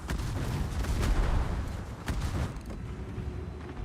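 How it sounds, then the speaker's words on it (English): Naval guns fire armor-piercing shells in the World of Warships game, booming loudly over a dense, continuous roar of battle that eases slightly toward the end. "why are you shooting AP at me? Your AP does nothing"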